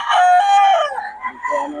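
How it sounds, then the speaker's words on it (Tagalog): A rooster, a gamecock, crows once, loud and close, its long drawn-out call fading into softer clucking and bird noises. "Pogi ng manok ni Boss Ben."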